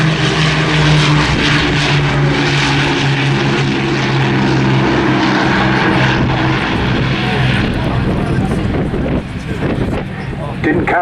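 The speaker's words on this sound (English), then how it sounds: "you see here now with the undercarriage down, what a huge aircraft this was" A large WWII piston-engined bomber from the Battle of Britain Memorial Flight passes with its undercarriage down at Southport Airshow 2022, a loud, steady propeller drone sustained throughout with wind buffeting the microphone and a commentator talking over it.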